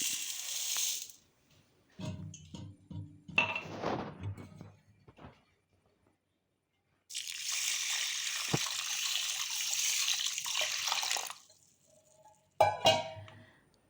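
Water running from a tap and poured over one glass of raw white rice set to soak for making Malabar kalathappam, with bursts of pouring and splashing separated by quiet gaps and a few clinks of the vessel.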